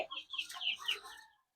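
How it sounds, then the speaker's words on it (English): Young chickens cluck and chatter in a pullet pen on a Philippine farm, a busy overlapping flock of soft calls, fairly close, with no talking. "We still have some chicken here in the pullet pen."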